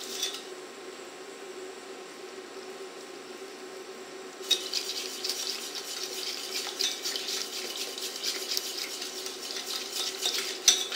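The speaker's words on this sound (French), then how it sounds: "Surtout, on mélange bien pour pas que ça accroche au fond." A spoon stirs chocolate caramel in a pot on the stove, scraping and clinking steadily and close by, with the stirring growing busier and louder partway through; no one speaks.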